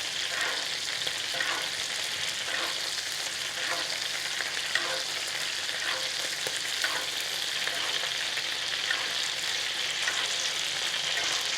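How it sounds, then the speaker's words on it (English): Monkfish pan-roasts in butter with thyme and garlic over low heat, giving a dense, continuous sizzle and crackle, with faint soft spoon strokes as the butter is basted over the top, steady throughout and without voices. "just continually baste it at the same time that we're browning that top side"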